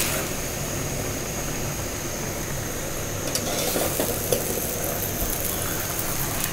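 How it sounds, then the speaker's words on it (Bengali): Okra curry simmering in an open pan on the stove gives a steady, soft bubbling hiss throughout, with a few faint scrapes and clinks near the middle and no voices. "তো এখানে সেই ভেন্ডির তরকারি বলক চলে আসছে।"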